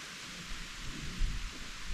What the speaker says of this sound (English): So the rain is starting now. It's real light